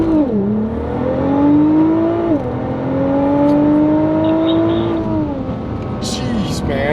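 Nissan GTR launching from 0 to 60 mph on a mountain road on stock tires and wheels, heard as a loud, close engine howl rising through quick successive gear changes with brief dips between pulls.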